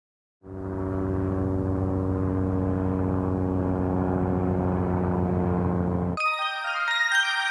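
Steady, loud Bell 206 helicopter engine and rotor drone with a fast rhythmic thrum, cut off abruptly by a short electronic chime.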